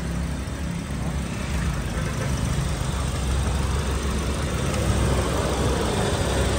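A 2018 Toyota Vios G engine idles steadily and smoothly, a constant close engine drone with no breaks.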